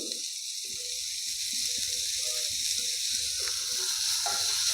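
Grated radish for a breakfast dish goes into a sizzling pan, with a steady hiss of hot oil underneath and a run of short clattering and stirring sounds on top.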